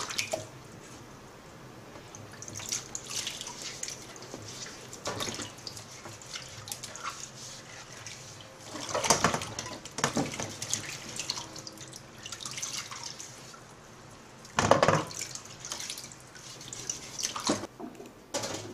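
Water runs steadily from a tap while food is rinsed and rubbed with a sponge to remove stubborn skin, with occasional louder splashes and squishy scrubbing.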